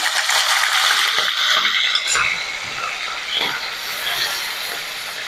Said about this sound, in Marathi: कांदा आपल्याला व्यवस्थित परतवून घ्यायचा आहे